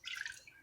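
A peppery bourbon and brown sugar mixture pours into a small saucepan as a brief, close liquid trickle and drip with no talk.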